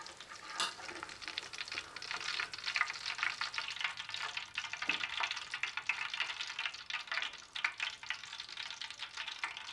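Chicken pieces deep-fry to a crisp for honey chicken, a continuous bubbling sizzle of hot oil with occasional stirring scrapes, steady and fairly quiet with no voices.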